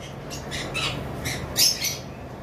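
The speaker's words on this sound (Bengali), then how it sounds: "এটা কোকাটেলের মর্নিং পেয়ার" A pair of cockatiels lets out a rapid series of harsh, shrill squawks, about six close bursts with one louder cry near the middle, heard up close against a faint background hum.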